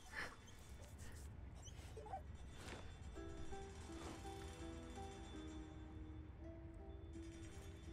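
A dog in Baldur's Gate 3 whimpers and whines while being petted, soft high-pitched cries and sniffs repeating over several seconds alongside game ambience, with no talking.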